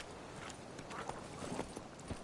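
A horse trots in The Witcher 3, its hooves clip-clopping in a quick, faint rhythm beneath a steady wash of game background sound.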